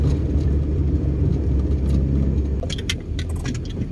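A jeepney rolls past on a city street, its engine rumbling loud and close, steady at first and then fading a little as it goes by, with faint clinks and rattles near the end.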